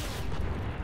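Tank cannon fire in the World War II shooter game Enlisted, a heavy low rumbling blast that fills the whole short moment at steady loudness with no voices over it.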